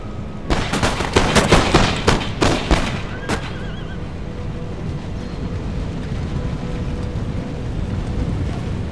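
Musket volleys from Empire: Total War battle, a dense cluster of sharp cracks over the first few seconds, then a steady low rumble of battlefield ambience with scattered faint distant shots.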